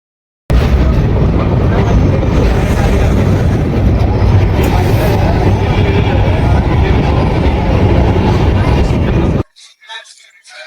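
A superfast express passenger train, the 07381, rumbles past close by, a steady loud roar with rattling wheels for several seconds, then cuts off to quiet.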